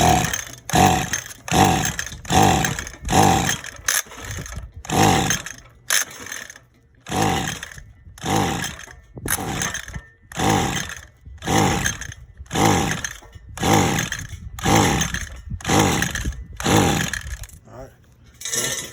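A weed eater that won't start being pull-started over and over, a steady run of loud rhythmic recoil-cord pulls close by, each with a ratcheting whir, and the engine never catches.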